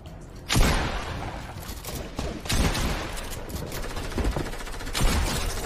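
Gunfire in the Fortnite battle royale game, loud repeated shots and bursts, several sharp heavy blasts among rapid firing, close and punchy.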